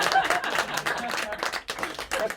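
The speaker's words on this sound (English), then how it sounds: "You can clap. I don't mind." Audience applause and clapping break out at a magic show at the Magic Castle, a lively, moderately close burst of many hands with some crowd murmur mixed in.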